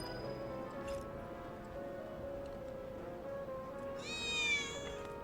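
A cat meows once in Final Fantasy VII Remake, a short rising call near the end over a quiet, steady game ambience with a soft tonal drone.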